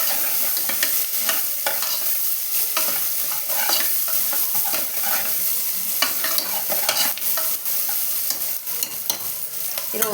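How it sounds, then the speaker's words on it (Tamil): Onions salted and sautéing in a pan for a green peas kurma, giving a steady close sizzle with repeated scraping stir strokes throughout, no talking. "உப்பு சேர்த்து வதக்கினா ஆனியன் சீக்கிரமாகவும் வதங்கிடும்"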